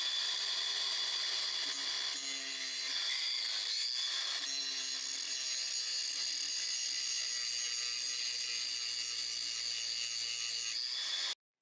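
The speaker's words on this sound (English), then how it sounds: "The kit comes with more bolts, so they're just going to get grounded off with a happy wheel." A grinding wheel cutting off rounded bolts during air suspension repair on a Range Rover Sport L320, a loud, continuous high-pitched whine with slight pitch dips as the wheel bites, running steadily for about eleven seconds, no talk.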